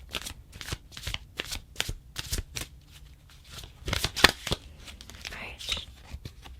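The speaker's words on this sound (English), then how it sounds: "I always find shuffling very relaxing." A deck of cards is shuffled close up in a steady series of crisp riffles and taps, with soft handling noises between them.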